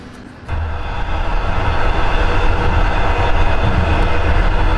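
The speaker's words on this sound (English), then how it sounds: "I'm now on board the train to Ulaanbaatar." Passenger train bound for Ulaanbaatar running on its rails: a steady, close rumble with faint rhythmic rail clatter that swells after a quiet first half-second and then holds at a constant level with no talk.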